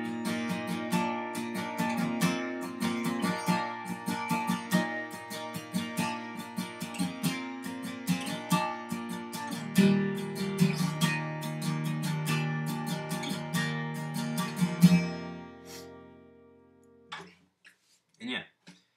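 An acoustic guitar strums the verse chords of a song in a steady, rhythmic pattern, ending on a long ringing chord. A few short sounds follow after it fades.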